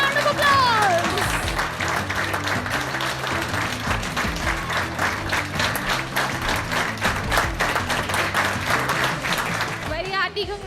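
Loud, sustained applause from a large crowd at a cooking competition finale, dense clapping that swells and continues for several seconds before tapering off at the end.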